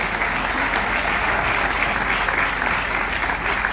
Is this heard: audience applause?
yes